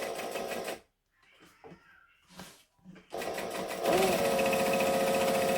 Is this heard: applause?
no